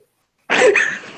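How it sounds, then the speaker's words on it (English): A single harsh cough bursts out after a short silence, rough and breathy, followed by a trailing rasp and a small second catch at the end. "I'm coughing so fucking hard"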